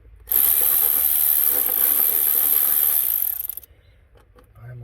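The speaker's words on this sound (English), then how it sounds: "You have a battery ratchet in your hand." Cordless battery ratchet whirring loudly and steadily for about three seconds during brake work on an MG ZR, then cutting off into quiet, with a faint low hum after.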